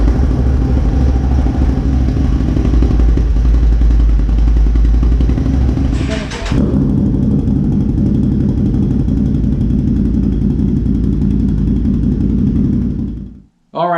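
Can-Am Renegade ATV (2023) engine running through an SLG Bomber Quiet Series exhaust with quiet core and spark arrestor, a loud continuous deep rumble with a rev change partway through, then cutting off at the end.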